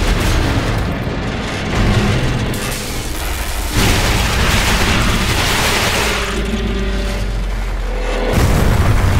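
Grenade and demolition-charge explosions in Call of Duty: Modern Warfare Remastered, loud booming blasts and rumbling gunfire filling the whole stretch, with heavy low-end impacts rolling on continuously.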